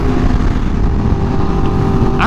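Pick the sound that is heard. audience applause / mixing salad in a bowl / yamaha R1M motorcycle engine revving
yamaha R1M motorcycle engine revving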